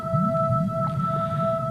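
Whales call underwater in an animated undersea kingdom, with steady tonal whistles and low rumbling moans over a constant watery background, continuous throughout.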